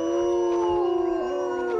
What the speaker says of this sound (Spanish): Es el aullido y el rostro de uno de los principales depredadores de California